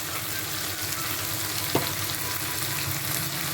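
Tomatoes with coriander leaves sautéing in a pan for chutney, a steady close sizzle and crackle with a brief stir or scrape partway through.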